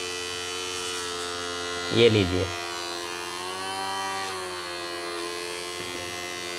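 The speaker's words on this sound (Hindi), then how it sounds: "दोनों मोटर बहुत ही अच्छे तरीके से चल रही है" Two small motors in a homemade PVC air cooler run steadily on a 12 V adapter, giving a continuous close electric buzz and hum with a brief louder rustle in the middle, while someone speaks briefly.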